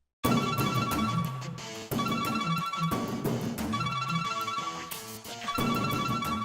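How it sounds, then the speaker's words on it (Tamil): A phone ringtone rings loudly and steadily, a bright repeating electronic melody that keeps looping without pause, with no talk over it. "அனுஷ்கா, நான் போன் பேசிட்டு வந்துடுறேன்"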